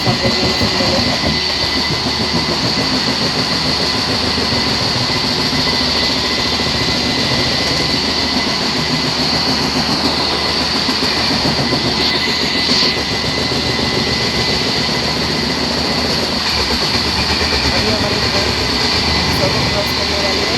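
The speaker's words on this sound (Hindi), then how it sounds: "अभी अस्सी की ट्रेन चल जाएगी, सामने ट्रेन चल जाएगा।" A train runs along the railway track at speed, with a steady loud rumble and rail noise throughout and a brief passing burst in the middle, recorded from a double-decker coach.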